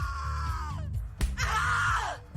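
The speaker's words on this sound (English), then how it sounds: "Scream louder, little bitch. Scream your lungs out." Screaming in the video game The Cat Lady: two long, loud, anguished screams separated by a short sharp thump, close and alone without talk.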